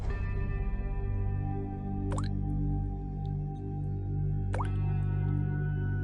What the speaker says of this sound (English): The water bottle, lying on its side, a slow trickle pooling onto the carpet.